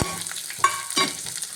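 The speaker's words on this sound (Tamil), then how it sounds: "சேர்த்து வெங்காயம் வதங்கட்டும் முதல்ல" Steady sizzling of onions frying in hot coconut oil, with occasional scraping stirs of a utensil against the pan.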